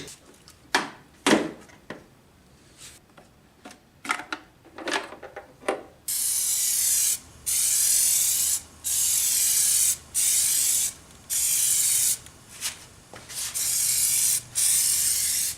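After some light tapping and handling noises, an aerosol can sprays smoke tint onto car taillights in repeated hissing bursts, each lasting about a second with brief pauses between, up close.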